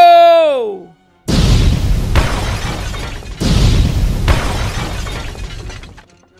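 A meteor strike in the video game GTA 5 lands as two huge booming explosions with shattering debris, each loud blast fading away slowly. A brief falling whistle comes just before the first impact.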